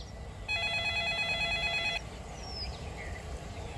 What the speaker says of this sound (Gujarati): લાલભાઈ એટલી વારમાં ફોન કર્યો